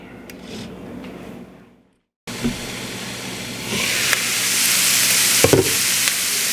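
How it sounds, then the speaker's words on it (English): Chopped onion hitting hot olive oil in a pan with garlic, bursting into a loud, steady sizzle that swells and holds after a brief silence, with a few sharp crackles and spatters. "I always add the onion right away"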